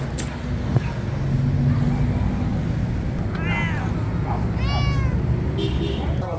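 Cats meowing at a street pet market in Baghdad, several rising and falling meows standing out clearly over steady traffic rumble and crowd chatter.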